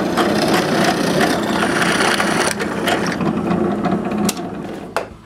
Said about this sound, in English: I finish by drilling 2 1/4 inch holes right through the dowel